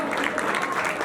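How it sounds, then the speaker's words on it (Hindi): A congregation at a church deliverance service gives a brief, dense burst of clapping that stays at an even loudness throughout. "जोरदार ताली भेज"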